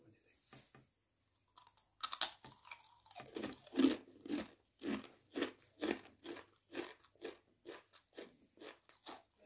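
Someone bites and chews crunchy, sweet-salty antari dry bread close up, giving a steady run of sharp, rhythmic crunches about twice a second. A brief voice comes just before the chewing starts.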